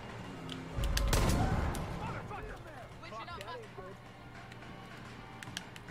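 A heavy explosion goes off in the shooter video game Far Cry 5: a loud, low boom that rumbles away over a couple of seconds. Faint voices and scattered small clicks follow.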